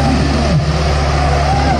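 Sonalika DI 750 tractor revving hard while pulling a double harrow across a field, a loud, close, gritty engine roar that holds steady throughout the short burst, with a voice partly audible over it.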